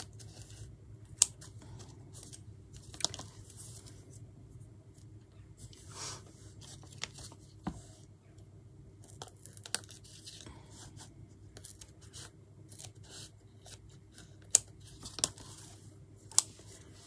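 Scissors trim the overlapping edges of a specimen card for holding embossed insects, making faint scattered snips and clicks over a low steady room hum.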